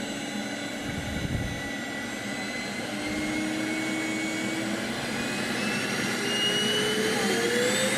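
A Gol airliner's jet engines roar during takeoff, a steady broad rumble with a rising whine that climbs gradually in pitch and grows slightly louder, heard from a distance without voices.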